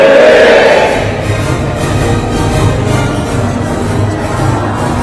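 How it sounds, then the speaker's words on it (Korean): An event crowd, answering a chant of "Team Korea," roars "fighting" in unison in one loud burst that quickly fades into a lower, scattered murmur of voices. "여러분은 큰 목소리로 화이팅이라고 외쳐주시길 바랍니다"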